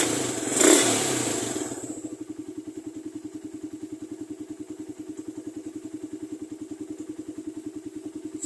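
Motorcycle engine idling steadily at a very low RPM of about 1,250, a rhythmic low putter that stays even and close throughout after a brief louder burst at the start.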